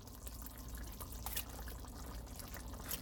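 Liquid poured over a lemon pepper chicken and rice casserole, a soft, steady trickle running for a few seconds at close range with a brief splashy swell midway, no voices.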